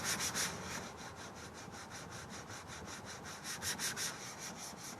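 Cleaner-conditioner being rubbed by hand into a classic Mercedes leather seat, a close, soft, rhythmic swishing that repeats in quick even strokes with no talking.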